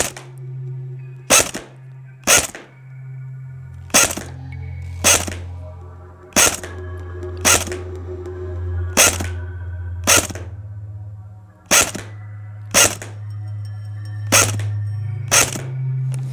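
Toy MP5 airsoft-style gun fired in single shots at a target, about eleven sharp cracks spaced a second or so apart, close and loud, over a steady low motor-like hum with no talking.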